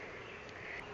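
A honeybee queen held in the hand, giving a steady, close, high insect buzz that carries on without a break, with no voices.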